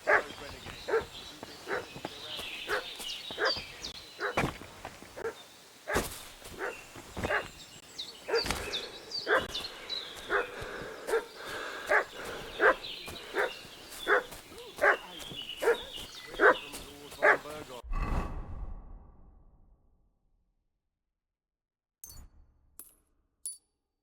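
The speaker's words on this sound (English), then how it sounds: "What's that dog making such a fuss about?" A dog in the video game Kingdom Come Deliverance 2 barks repeatedly in a steady, insistent series of sharp barks for about eighteen seconds, moderately close over ambient sound, before it falls quiet, leaving a few faint sounds afterward.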